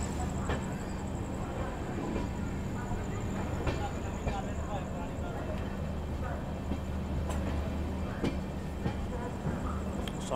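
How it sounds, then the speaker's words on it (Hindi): A WP7 locomotive passes on Indian rail with a steady rumbling roll and rhythmic clatter of wheels, heard from aboard a moving LHB Garib Rath express, with a constant high whine and a voice speaking over it. "सामने एक WP7 जा रहा है।"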